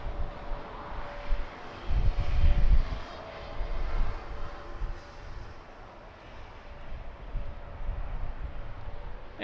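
A plane lands at Lisbon Airport in strong crosswind, heard at a distance as a broad engine roar mixed with wind rumble, swelling early and then holding steady.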